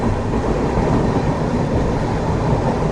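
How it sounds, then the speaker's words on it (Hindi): Sutlej Express passenger train rolling through a railway crossing, a loud, steady close-range rumble and rattle of wagons that holds unbroken for the whole stretch. "सतलुज एक्सप्रेस ट्रेन यहाँ क्रॉसिंग में मिली है हमें"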